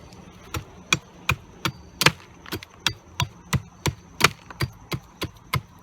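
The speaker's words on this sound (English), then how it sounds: "It's cutting into the wood." A knife bites into wood at a bushcraft outdoor setting, sharp isolated chopping knocks repeating at a steady pace about twice per second, close and crisp, with no voices.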